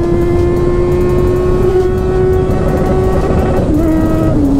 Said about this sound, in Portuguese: olha o barulho dessa moto